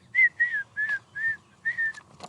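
A person whistles a simple tune of about six sustained, melodic notes in a steady rhythm, clear and close, with no talking.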